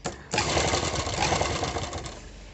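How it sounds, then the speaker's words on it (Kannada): A sewing machine stitches an embroidery work blouse with a single foot, starting after a short pause and then running fast and steady in a close, continuous mechanical rattle, with no talking. "ನೋಡಿ ಎಷ್ಟು ನೀಟಾಗಿ ಈ ಥರ ಸ್ಟಿಚ್ಚು ಬರ್ತಾಯಿದೆ"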